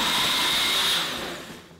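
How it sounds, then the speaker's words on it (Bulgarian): A kitchen blender whirs loudly as it blends a milkshake, the high steady motor whine holding for about a second before winding down and fading. "Айде, Ида, първо твоя блендваме, Лело."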